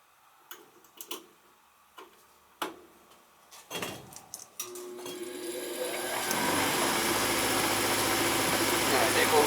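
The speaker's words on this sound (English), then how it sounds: "there goes the inducer motor" A gas furnace with a no-heat fault clicks and taps a few times, then its inducer motor starts up, building from a tone into a loud, steady whirring hum close by.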